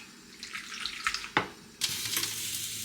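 Chunky garlic jalapeno hitting a very hot pan, sizzling and crackling steadily with a few sharp spits and bursts, close and moderately loud, with no voices.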